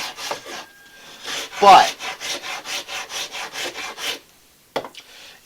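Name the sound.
sanding a wooden dowel with sandpaper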